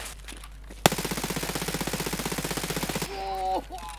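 Automatic gunfire in the video game Escape from Tarkov on the Interchange map: a sharp first shot followed by a rapid, steady burst of about two seconds that empties a magazine, ending in faint mechanical clicks and rattles.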